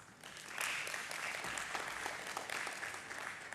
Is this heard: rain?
no